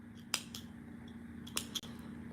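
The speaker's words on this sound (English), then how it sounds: "I'll just do a cut now" Scissors snip through yarn while a crocheted daisy granny square bag handle is finished, giving a few quick, close metallic cuts over a low steady hum.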